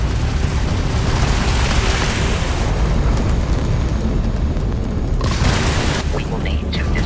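Sci-fi ship weapons from a Crimson Fleet vessel in Starfield thunder in heavy, continuous booming bursts and cracks that fill the whole stretch, loud and close, with a dense rumbling layer underneath.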